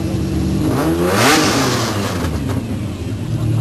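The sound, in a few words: sports car engine revving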